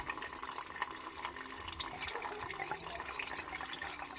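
Water pouring through a funnel into a heating system, a steady splashing, gurgling flow like a running tap, continuous and fairly quiet up close.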